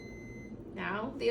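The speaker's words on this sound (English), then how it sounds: "Now the alarm says there's no food." A Moog Infinity enteral feeding pump sounds a no-food alarm with bright, high-pitched electronic beeps that begin partway through and repeat, with quieter background noise beforehand.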